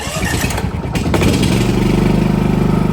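A Champion 4500 generator engine is started with a short burst of cranking and then settles into a steady, loud idle hum. The running is close, uniform and continuous, with no talking.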